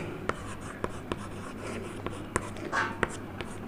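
Pen writing on paper or a board during a Hindi-medium English grammar lesson, with a steady scratching texture broken by sharp taps at regular intervals, close and clear with no talking.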